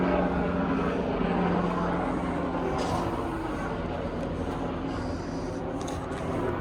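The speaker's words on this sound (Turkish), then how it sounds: "Yine uçak gidiyor yine" A steady, broad engine drone of an aircraft passing overhead, continuous and fairly loud throughout with outdoor background noise.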